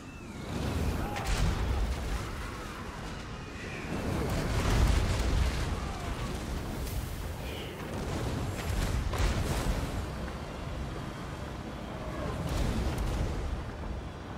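Cannon fire in a Warhammer battle rolls on as repeated deep booms and rumbling explosions, overlapping in waves of varying loudness over a continuous din of distant combat.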